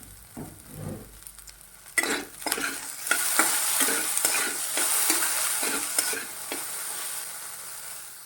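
Okra (bhindi) stir-fried in a pan makes a steady, close sizzle under repeated scraping strokes of a spatula that grow busier and louder partway through.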